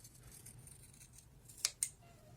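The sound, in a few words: scissors cutting fabric at corners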